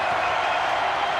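A basketball arena crowd roars steadily during a close Duke versus UNC college game, a dense wall of cheering noise with no break, loud and sustained.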